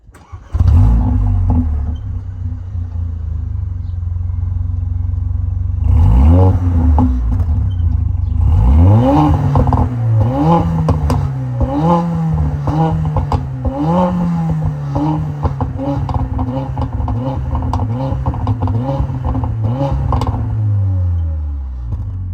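A Mercedes-AMG A 45 Edition One starts up and revs repeatedly, with sharp rising and falling blips from a loud idle, close up and with no talking.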